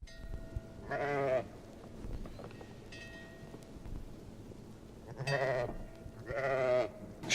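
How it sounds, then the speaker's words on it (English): Sheep bleat in two separate bursts, a single call early on and then a pair of calls near the end, with wind and low outdoor rumble filling the quiet gaps between them. "Sheep sound effects."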